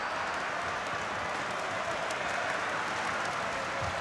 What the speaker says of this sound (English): there's this reassuring kind of ripple of applause